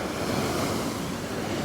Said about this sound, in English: Look at those waves, man. They're giant. Those are giant waves for the Gulf of Mexico.